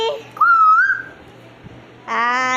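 A young child imitates a koel's call with a rising, whistle-like tone, then a brighter voiced cry follows after a short pause, both close and clear in a quiet indoor space.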